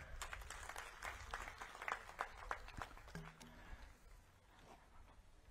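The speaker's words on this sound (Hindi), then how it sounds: "मैं चाहूंगा कि नरेंद्र मोदी जी के लिए भी आप लोग जोरदार ताली बजाएं।" Audience applause at a community conference and felicitation ceremony in Surajpur: dense, steady clapping for several seconds, faint and distant, that then thins out and fades.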